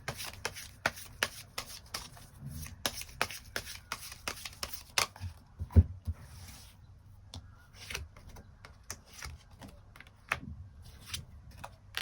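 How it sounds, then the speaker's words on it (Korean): Tarot cards are shuffled and drawn in a close, quiet room, giving a long run of crisp riffles, flicks and soft slaps with uneven rhythm. "추가 카드로 이번 6월에 내가 만나게 될 이 상대방이 어떤 특징을 가진 사람인지 또 어떻게 만나게 될지 또 두 사람의 관계가 그래서 앞으로 연인으로 발전될 수 있을지도 추가 카드 뽑아보도록 하겠습니다"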